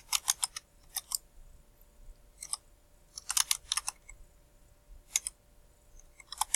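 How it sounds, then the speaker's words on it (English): Typing on a computer keyboard comes in short, irregular bursts of crisp key clicks separated by pauses, close and fairly quiet against a faint background hum. "I'm just a slow typer"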